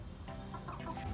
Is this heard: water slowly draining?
no